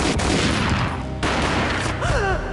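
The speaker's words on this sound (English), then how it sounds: "A gunshot boomed and she fell down in slow motion." Gunfire from the Max Payne video game on PS2: a loud, dense burst of overlapping shots filling the whole moment, with a brief rising electronic tone near the end.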